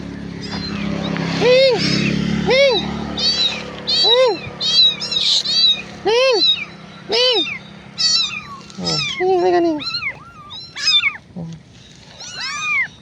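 Three kittens meow repeatedly, loud and close, in a run of separate wavering cries with short pauses between them.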